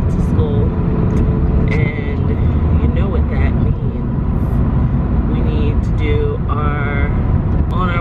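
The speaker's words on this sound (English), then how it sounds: "Let's get in the car." A car on the road, heard from inside as a steady, loud rumble of engine and road noise running throughout, with people talking over it.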